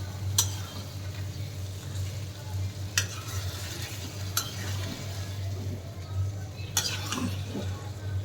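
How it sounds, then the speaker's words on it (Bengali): Chicken curry is stirred and sautéed in a pan with a steady low sizzle, while a utensil scrapes and knocks against the pan in a few sharp, close strikes. "এভাবে কিছুক্ষণ কষিয়ে নিব, 5-7 মিনিট কষিয়ে নিয়ে তারপর আবার ঢেকে দিব।"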